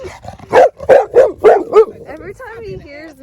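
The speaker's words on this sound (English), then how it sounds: "Those are her dogs, baby." Several dogs at a dog park in Clearlake, California, including a pitbull, bark in a quick series of loud, close woofs, then trail off into softer yips and whines while a person talks nearby.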